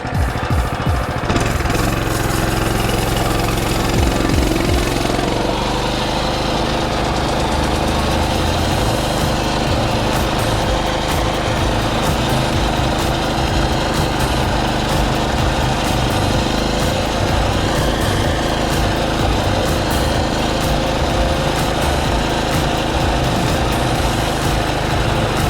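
A mini bike engine runs continuously after being freed from hydro lock, smoking heavily, with a steady, loud, close buzzing drone and rapid firing pulses that hold for the whole stretch, no voices.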